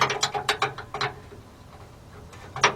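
A ratchet wrench turning a brake line fitting on a 1993 Ford F700 truck with a 7.0 engine and Lucas Girling brakes. It gives quick bursts of close, crisp clicking, pauses in the middle, then sounds another short burst.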